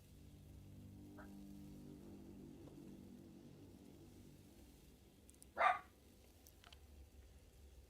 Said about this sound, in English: got a dog in the background barking, our little puppy